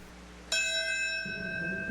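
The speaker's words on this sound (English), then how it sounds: "Bells tolled" A bell tolls at the September 11 memorial in Lower Manhattan: one clear, ringing strike that starts sharply, then hangs in a long sustained resonance over a low murmur of background noise.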